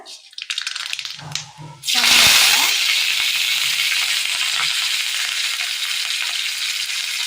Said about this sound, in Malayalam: അടുപ്പത്തൊരു പാത്രം വെച്ച് കൊടുത്ത് അതിലേക്ക് എണ്ണ ഒഴിച്ചു കൊടുക്കുക. എണ്ണയിലേക്ക് പെരിഞ്ചീരകം, ഒരു നുള്ള്